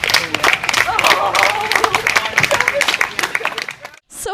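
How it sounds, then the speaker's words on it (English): An audience gives a big round of applause, a dense burst of clapping and crowd noise lasting several seconds before cutting off abruptly near the end, with voices mixed in. "give them a great big round of applause"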